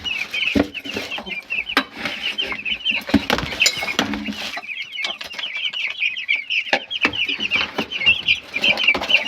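Sixteen-day-old white broiler chickens clucking and peeping in a close flock, a busy chorus of overlapping calls with scattered louder squawks and a few wing flutters throughout.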